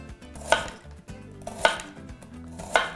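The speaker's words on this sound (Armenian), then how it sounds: "Ուզում եմ սոխը կտրատենք։ Նորեն սենց կիսալուսնաձև պետքա կտրատենք հարակի վրա։" Red onion being sliced into half-moons with a knife on a cutting board, three sharp knife strikes on the board at a slow, even rhythm with quieter handling sounds between them, no talk.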